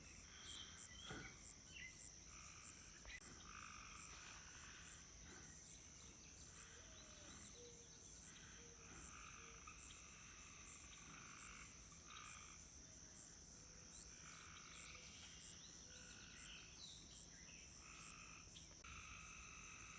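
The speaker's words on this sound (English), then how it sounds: "Tree frog." Tree frogs croak at dusk beside a rural hayfield, a dense chorus of repeated rhythmic calls over a steady high insect trill, distant and fairly faint, with no talking.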